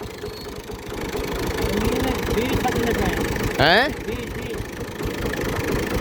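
A tractor engine idles close by in a steady low rumble with a rhythmic knock, beneath a man's brief spoken question and a short rising whistle-like tone.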